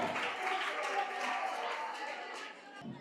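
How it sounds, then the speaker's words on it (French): An audience at a school quiz contest applauds a contestant, a dense, steady wash of clapping from a crowd lasting a few seconds before tapering off, with faint voices mixed in. "On applaudit pour elle."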